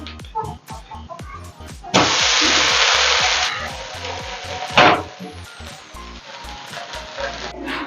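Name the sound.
dosa sizzling on pan with ghee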